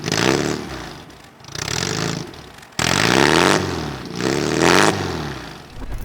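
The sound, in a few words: MINI British Open Classic aftermarket racing exhaust revving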